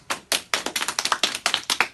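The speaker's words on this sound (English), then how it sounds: "Can we give all the reading award winners a big clap?" A group of children at a school assembly claps for reading award winners, with quick irregular claps building into brief scattered applause at close range.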